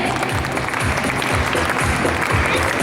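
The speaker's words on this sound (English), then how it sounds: "Parents, your claps will motivate them." Parents in the audience clap at a PYP 5 graduation ceremony at a school, a dense, even patter of applause filling the whole short stretch with no gaps.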